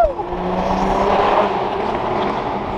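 A Toyota Supra widebody's engine roars past with a loud, droning exhaust note, the pitch sliding down as it passes, echoing inside a tunnel.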